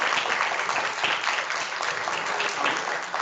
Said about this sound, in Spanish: Pues les pediría un fuerte aplauso para cada uno de ellos y de ellas.